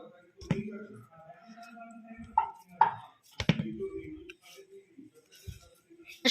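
Soft knife taps cutting kneaded flour dough into small portions for peas kochuri, a few sparse separate strikes on a board with pauses between them, close and fairly quiet.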